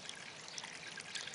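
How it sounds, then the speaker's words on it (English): Water trickles and pours through an aquaponics bell siphon in an IBC grow bed, a steady, faint, continuous splashing stream with no talk over it. "And of course, here's the bell siphon."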